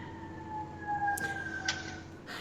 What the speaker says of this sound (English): Every time I hear a siren, I'm like, I hope everybody's okay.